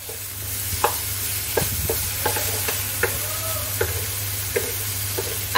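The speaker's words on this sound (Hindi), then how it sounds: "चलाते हुए हमें इस तरीके से मिक्स कर लेना है।" A coconut laddoo mixture being stirred in a pan makes a steady soft sizzle, with regular scraping taps of the spoon about once a second, close up and with no talking.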